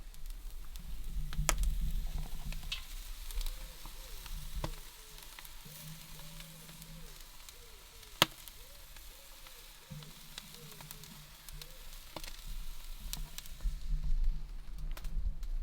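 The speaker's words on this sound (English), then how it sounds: "Grilling boiled pulpo like this is really easy because you basically just need to get it charred." Boiled octopus sizzles as it chars on a grill, giving a steady crackling hiss with faint pops and occasional sharp ticks, close and continuous at moderate volume.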